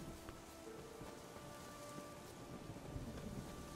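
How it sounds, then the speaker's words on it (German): Steady rain falling in the open world of the video game The Witcher III, a dense continuous hiss with a faint low rumble beneath, even and moderately loud throughout with no talking. "Eindeutig Regen."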